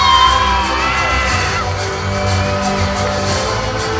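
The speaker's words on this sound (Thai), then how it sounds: "ขอเสียงกองเชียร์ดังๆอีกหนึ่งครั้งหนึ่ง" Loud crowd of supporters cheering and whooping at a Lao New Year pageant, a dense continuous roar with shrill shouts, close and steady throughout.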